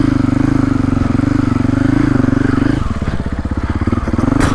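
A 2025 Husqvarna FE450 Heritage Edition dirt bike riding through a trail obstacle by a river: a loud, close four-stroke engine thumps steadily, dips briefly as it clears the obstacle, then picks up again.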